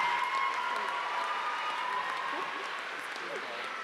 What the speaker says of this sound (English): Let's give a round of applause to all of the degree candidates from the Department of Learning